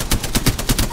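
Automatic gunfire in Apex Legends, a loud, close burst of about nine rapid shots in an even rhythm filling one second.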